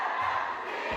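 An angry crowd at a city meeting shouts and jeers at city leaders, a dense, loud wall of overlapping raised voices filling the whole moment without letup.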